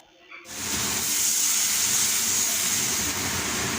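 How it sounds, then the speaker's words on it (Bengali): Fried potatoes stirred into a cooked-down spice paste for a Bengali fish curry (macher jhol), with a loud, steady hiss and sizzle that starts abruptly after a brief quiet moment and holds throughout. "এবার আমি ভাজা আলুগুলো এর মধ্যে দিয়ে সামান্য একটু নেড়ে নিয়ে জল ঢেলে দেব"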